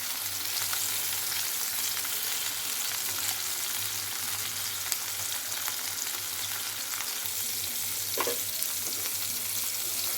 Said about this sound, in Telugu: ఇప్పుడు లైట్గా వేగినవి రెండో పక్క కూడా అట్లా వేగనిచ్చి ఆపేసుకోవచ్చు